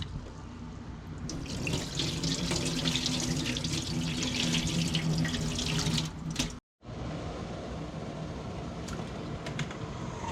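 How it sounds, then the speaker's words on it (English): Rice is washed under running tap water at a kitchen sink for a Guyanese dhal and rice meal: a close, steady rush of water splashing into the grains, broken once by a brief silent gap before resuming. "washing up the rice here."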